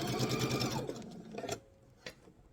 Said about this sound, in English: You want to try to get a nice straight stitch without puckering your pieces.